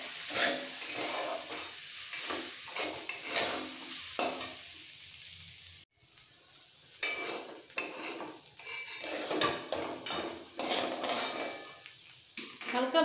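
Rice and lentils with turmeric fry in a pot for Durga Puja khichuri bhog, giving a soft, close sizzle broken by repeated scrapes and clinks of a spoon stirring against the metal, with brief pauses between strokes.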